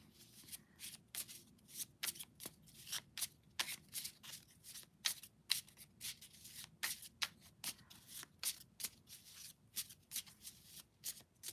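Tarot cards being shuffled by hand, a fast run of crisp riffling bursts repeating in an irregular rhythm for the whole stretch, close and fairly quiet with no talking.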